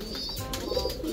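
Breeder pigeons coo softly in a loft, a brief low murmuring call close by with faint background hiss.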